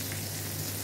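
Dried fish (tuyo) fries in a pan with a steady, dense sizzle and crackle at moderate level, alone and unbroken.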